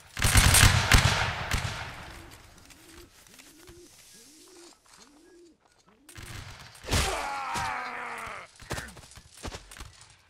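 Musket volley fire in the Napoleonic Wars video game: a dense, crackling burst of many shots at the start, then a later ragged volley mixed with battlefield noise, with cooing bird calls in the quieter stretch.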